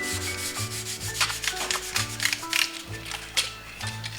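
Close, rhythmic rubbing strokes as the name is worn off a Washburn guitar neck for a relic finish, repeating quickly over a steady tonal background.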